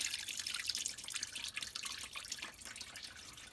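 Fluid draining and dripping from a Duster 360 engine during timing chain cover work, a faint continuous trickle with scattered drips, close but quiet, no talking.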